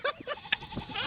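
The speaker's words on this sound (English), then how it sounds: "playing sounds of goats" Recorded goat bleats play back in quick succession, a few short wavering cries heard clearly and close.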